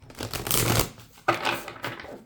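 Oracle cards are shuffled by hand in two quick riffling bursts, close and crisp, with a short pause between them.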